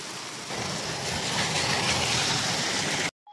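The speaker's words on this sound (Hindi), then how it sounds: "पर माशाल्लाह बारिश बढ़िया हो रही है।" Heavy rain pours outside in Jeddah, Saudi Arabia, a loud, dense, unbroken hiss of water that continues for about three seconds before cutting off abruptly.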